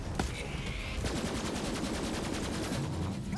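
Rapid automatic gunfire from the Borderlands 3 video game rattles in a dense, continuous burst with sharp individual reports, loud and unbroken over a busy game soundscape.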